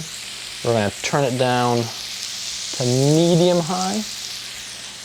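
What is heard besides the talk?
meat sizzling in a pan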